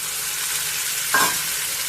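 A green ground paste drops into a hot pan for an amla dal, setting off a soft steady sizzle with a brief louder hiss and stir midway, close and without any voices.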